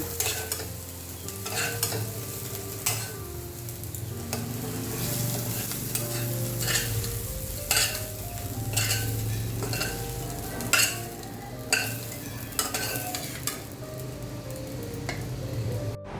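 Vegetables frying in a pan are stirred, giving a steady close sizzle broken by repeated scraping and clinking strokes of the spoon, with no talking.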